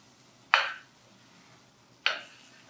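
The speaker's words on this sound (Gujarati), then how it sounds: "મગને આમાં સરસ રીતે મિક્સ કરી દેવાના" Two short scraping strokes of a spoon stirring thick moong bean curry in a clay pot, spaced about a second and a half apart against quiet background.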